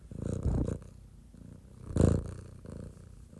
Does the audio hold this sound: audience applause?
no